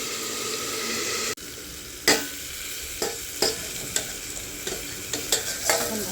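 Food is mixed and stirred in a sizzling pan. Repeated sharp scraping strokes, about one per second, sit over a continuous frying hiss, close up, with no talking.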